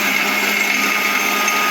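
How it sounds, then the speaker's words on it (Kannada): A kitchen mixer grinder runs loudly and steadily, blending ingredients with a couple of tablespoons of water in a continuous high whirring drone with no pauses. "ಒಂದು ಮಿಕ್ಸಿ ತೊಗೊಳ್ಳೋಣ"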